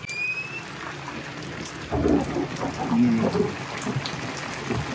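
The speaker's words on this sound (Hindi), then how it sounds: "क्या जबरदस्त बारिश हो रही है" Steady heavy rain hisses outdoors, a dense wash of drops with a few faint voices or sounds rising briefly in the middle.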